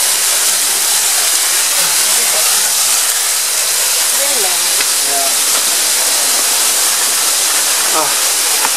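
A waterfall at Yinhe Cave near Taipei, heard from behind the falling water, roars as a loud, unbroken wall of rushing hiss that stays close and constant throughout.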